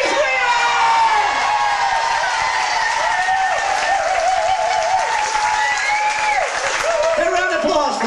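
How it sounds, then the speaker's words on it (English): A crowd at a hypnotist's stage show applauds and cheers loudly, with whoops and yells riding over sustained clapping. Excited voices shout throughout, close and continuous from start to finish. "A round of applause"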